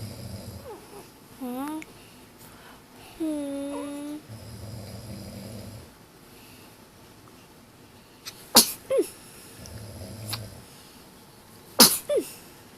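Two short, sharp sneezes stand out near the end, following some high, squeaky vocal sounds, with faint background noise throughout.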